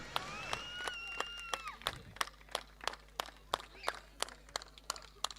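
Clapping from a crowd at the coin toss between two team captains before a throwball final at Jog: a steady, rhythmic clap, evenly spaced and moderately distant, that follows a short whistle and a voice at the start.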